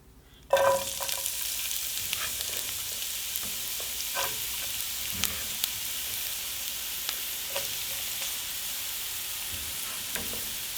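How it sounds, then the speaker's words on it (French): Onions frying in olive oil in a pan: a sudden sizzle as they hit the hot oil, then a steady bright crackle with small pops and stirring scrapes, close and fairly loud, with no talking. "je fais revenir les oignons."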